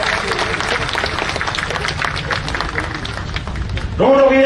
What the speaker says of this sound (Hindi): धन्यवाद दीजिए जोरदार तालियां बजाकर।